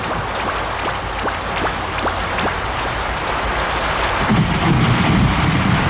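A storm brings steady heavy rain with thunder, a dense continuous hiss. A deeper rumble swells toward the end.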